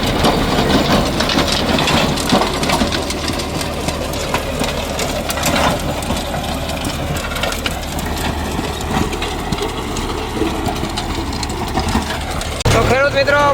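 A Mahindra 575 diesel tractor runs with a rotavator at about 1400 rpm in medium first gear, a loud, steady low engine drone with rattling mechanical texture throughout, and a brief voice near the end.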